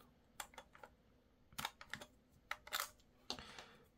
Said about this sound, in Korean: 배터리는 이 배터리 캡에 있는 나사를 동전으로 이렇게 풀게 되면